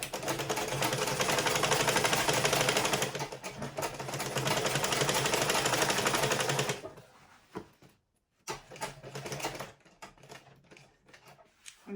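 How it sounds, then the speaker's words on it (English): A sewing machine stitches fabric for a pleated turban in a loud, rapid continuous run for several seconds, pauses briefly, runs again, then stops, leaving softer handling clatter. "I will sew it straight, and I will continue joining everything together"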